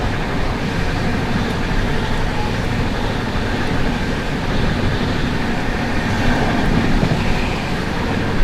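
Night run of the West Bengal Sampark Kranti express train: a steady, loud rumble of wheels and carriages rolling along the track, continuous throughout with faint clatter and no talk.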